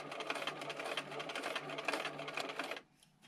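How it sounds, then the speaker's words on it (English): A sewing machine stitches rows in fabric, a rapid, close mechanical chatter running steadily for nearly three seconds before stopping. "I'm going to stitch on this side of that stitching line"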